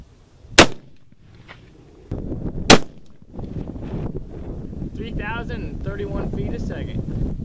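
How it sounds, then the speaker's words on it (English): Two sharp, loud rifle reports a couple of seconds apart from a 7mm Rem Mag firing lead-free test loads outdoors, followed by steady wind rumble and faint background noise. "Now we'll shoot our first test load"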